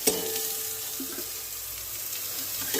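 Homegrown leafy stalk greens frying in a pan at home give a steady, soft broadband sizzle that runs on evenly without pause, with a few faint clatters near the start and end.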